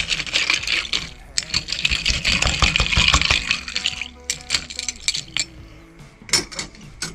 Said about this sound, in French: Bien mélanger pour faire ressortir le rhum et la menthe.